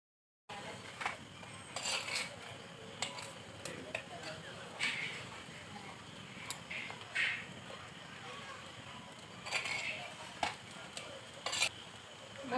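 A paratha fries in a pan in a home kitchen, with a quiet, faint sizzle broken by light clinks and scrapes of a utensil against the pan.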